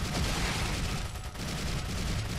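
Gunshots in Resident Evil 4 HD: a dense, continuous wash of loud gunfire and rumble fills the whole stretch, dipping briefly once before resuming.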